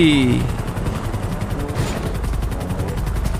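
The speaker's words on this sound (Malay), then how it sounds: "Oh, datang pula heli." Helicopter in the GTA V video game, a steady loud rotor drone filling the clip, overlaid with rapid bursts of in-game gunfire.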